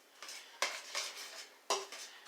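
Utensil scraping and clinking against a pan while a sesame ginger stir fry with cabbage is mixed, a few sharp scrapes standing out over a soft, steady background, no one talking.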